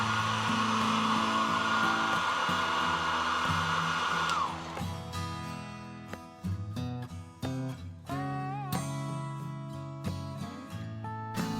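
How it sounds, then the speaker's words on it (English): Hair dryer blowing steadily at close range while heating an iPhone XS case for Face ID module repair, a broadband whoosh for about four seconds that then cuts off, leaving small tool clicks and handling noises. "Using a hairdryer, heat the iPhone case."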